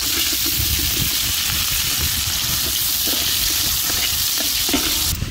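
Onions frying in hot oil for quail semiya biryani, with loud, close sizzling and crackling plus repeated scraping stirs of the pan, continuous and without voices.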